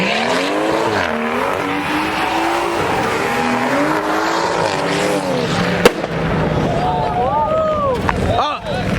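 A car doing a burnout at a street takeover, its engine roaring with squealing tires and a sharp pop midway as a tire bursts, followed by rising whines and shouting voices from the crowd.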